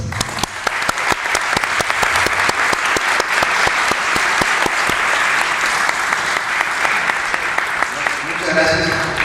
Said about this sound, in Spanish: Recibamos con un fuerte aplauso al escritor Leopoldo Mendívil López